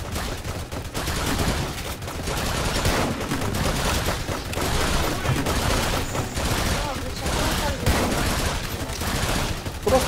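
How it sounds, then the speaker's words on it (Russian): Dense, continuous gunfire from sniper towers in the Roblox game Tower Defense Simulator, rapid overlapping shots filling the whole stretch alongside busy game effects. "По-моему, мой снайпер только что выстрелил в Бэйби Йоду."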